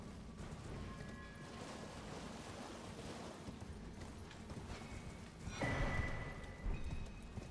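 A horse gallops in the video game Elden Ring, hoofbeats running under a steady windy, surf-like ambience, with a louder rushing swell and thumps near the end.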